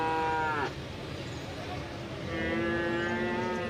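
Cattle at a livestock market moo loudly and close by, one long low call ending abruptly, then a second drawn-out moo after a short pause, over steady background noise.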